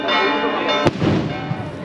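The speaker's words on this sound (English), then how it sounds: "the first mortar was fired" A festival mortar fires at the Sitges Festa Major (Sant Bartomeu) in Spain, a single sharp loud blast rising out of steady crowd and band noise.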